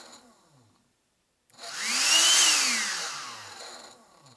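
A 12V cordless vacuum motor powered through an 18V DeWalt battery adapter starts after a short silence. It spins up into a loud, steady whine that rises in pitch, then eases back down over a few seconds and runs alone.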